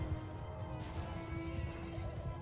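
A horse in the Mount & Blade II: Bannerlord battle, with steady hooves clip-clopping and neighing under a dense, continuous wash of battle noise, moderately loud throughout.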